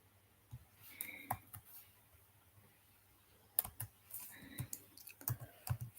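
Typing on a computer keyboard while writing Python code, with scattered close key clicks that come in short bursts separated by pauses and no voices.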